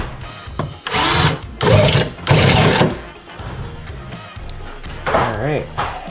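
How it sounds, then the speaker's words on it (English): A power drill whirs in several loud bursts, close by, winding up and down, drilling a hole in a Mazda Miata's trunk, with a person talking over part of it. "I'm just gonna drill that hole real quick"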